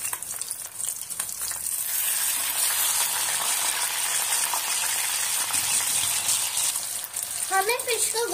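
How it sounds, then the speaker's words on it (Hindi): Rohu fish pieces fry in hot oil in a pan, giving a loud, steady, dense sizzle that carries on without a break; a brief voice cuts in near the end. "हमें फिश को गोल्डन फ्राई होने देना है।"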